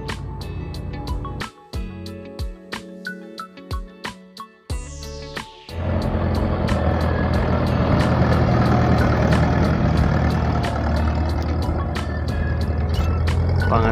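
A tractor ploughing a field. After a stretch of sharp intermittent clicks and knocks, a heavy engine rumble takes over about halfway through and runs loud and continuous, with a dense low drone and a gritty churning texture.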